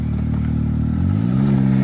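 Can-Am X3 side-by-side engine with a Trill exhaust and extra muffler, a loud close mid-pitched drone that climbs in pitch as it revs up, steady and unbroken with no talk over it.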